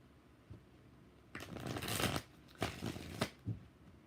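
Tarot cards are shuffled nearby in a few quick riffling bursts during a live reading, with short pauses between shuffles and no talking.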